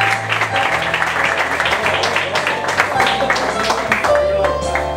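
Applause for a performer at a gala contest event in July 2017, dense clapping filling the room over steady music, continuous throughout at moderate loudness.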